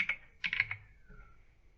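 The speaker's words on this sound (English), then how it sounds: "So I'm going to type the word beautiful" A few quick keystrokes on a computer keyboard entering a word into Cricut Design Space, two short bursts of close, soft clicks with no speech.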